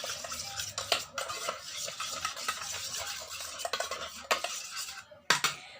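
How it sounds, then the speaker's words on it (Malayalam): A spoon mixes milk and mashed papaya in a small dish to make a homemade face cleanser. The close, quiet scraping is irregular, with small metallic clinks against the container and no speech. "നമ്മുടെ പപ്പായ 1 സ്പൂൺ ഇടാം. അതിനുശേഷം നന്നായിട്ട് നമുക്ക് മിക്സ് ചെയ്യാം."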